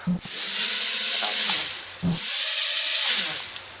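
A mini camera quadcopter drone's motors spin up into a steady high whirring hiss, cutting out briefly and restarting, loud and close with no talk.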